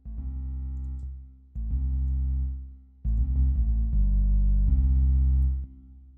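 A synth bass line built from a key ignition sample and run through reverb and bass effects plays several held low notes in turn, each one full and sustained, with no voices.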